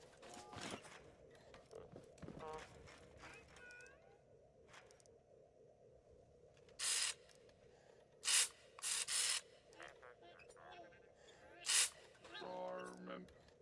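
Spray tool bursts while painting parts in the video game Scrap Mechanic: several short, loud hissing sprays in the second half, between stretches of talk.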